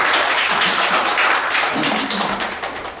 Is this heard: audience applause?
yes